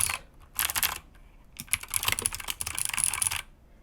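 Rapid, clicky typing on a mechanical keyboard fitted with blue switches, heard up close in two bursts separated by a short pause, with crisp, loud keystrokes and no talking.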